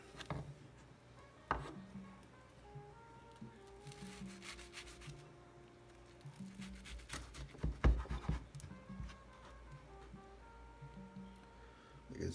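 A knife slicing through a Spam breakfast dish with cilantro, giving several close scraping and rubbing cuts, a few sharp knocks on the board, and a louder burst of cutting near the middle.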